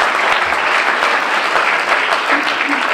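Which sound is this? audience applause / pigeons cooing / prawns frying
audience applause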